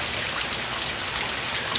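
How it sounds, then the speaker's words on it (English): Rain falls steadily outside, a dense, even hiss of many drops hitting surfaces, with no voices. "Look at all that rain out there."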